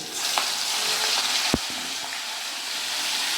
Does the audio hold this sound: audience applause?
no